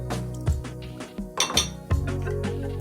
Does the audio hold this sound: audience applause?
no